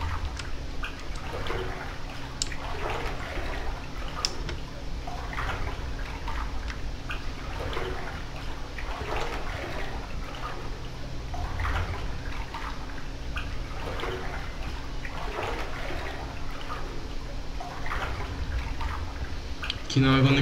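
Continuous sloshing and splashing of water as a character wades through flooded rooms in a Backrooms video game, steady and fairly close, with a voice speaking over it.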